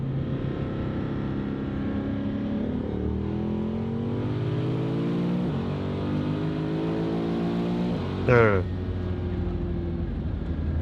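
An LS-swapped BMW E90 engine revs hard on its map 4 setting, a loud sustained roar that climbs through rising gear pulls and peaks sharply before easing, while a voice talks underneath.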